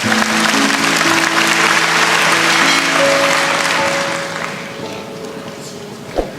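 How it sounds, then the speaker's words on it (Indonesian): A church congregation applauds during a sermon, a full round of clapping with sustained tones underneath that softens partway through and trails off. "Kasih tepuk tangan untuk Tuhan Yesus."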